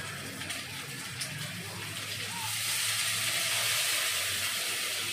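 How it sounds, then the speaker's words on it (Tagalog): Homemade vinegar pours into a chicken dish as it cooks, a steady hissing wash that grows louder and fuller partway through, with no voices. "Tapos, lagyan natin ng suka."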